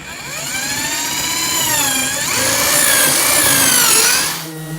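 A power drill fitted with a step bit whines loudly, its pitch rising and shifting as it cuts wood, then cuts off near the end.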